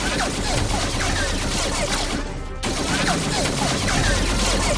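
Guards open fire from above in a Face/Off tribute: dense, continuous loud bursts of gunfire with crashing impacts, broken by a brief dip before the barrage resumes.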